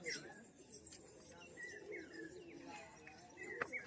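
Giribaz pigeons at a roadside bird market in Murshidabad, with soft cooing and chirps in a steady murmur of nearby crowd noise and voices.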